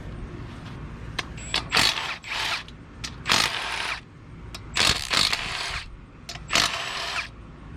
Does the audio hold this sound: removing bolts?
yes